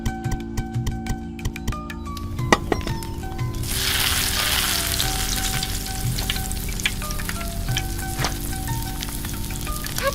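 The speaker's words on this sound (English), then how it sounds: "Add the meat and fry it until it's cooked." Chicken wings sizzle steadily in a hot pan for a Bhuna-style chicken masala, the loud crackle swelling after a few seconds, with occasional stirring clicks and scrapes over it.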